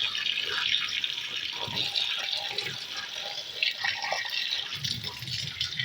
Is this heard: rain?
no